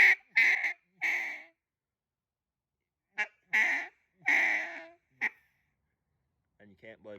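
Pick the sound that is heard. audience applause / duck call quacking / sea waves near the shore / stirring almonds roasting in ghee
duck call quacking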